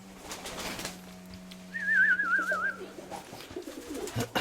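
A paired pigeon in an upper loft gives a single wavering coo of about a second, close and fairly clear. It rises over a low steady hum and scattered faint rustling.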